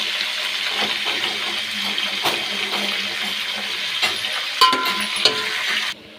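Masala frying in hot oil for a chicken dish, a steady close sizzle and bubbling crackle that holds level throughout, with a few spoon clinks near the end before it cuts off.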